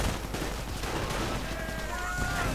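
Dense gunfire in a WWII strategy game battle between Commonwealth commandos and Wehrmacht troops, with rapid overlapping shots and bursts forming a constant loud barrage throughout.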